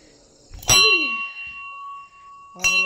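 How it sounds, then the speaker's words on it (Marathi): A metal temple bell is struck twice, about two seconds apart; the first strike rings out clear and bright, its tone sustaining and slowly fading before the second clang. "आपण घंटी वाजू पहिले."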